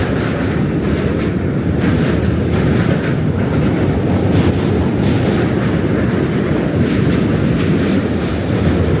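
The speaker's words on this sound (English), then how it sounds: "Another train." A train rumbles steadily past on rails during a Manhattan walk toward the Brooklyn Bridge, a loud, continuous clatter of wheels and cars with no voices over it.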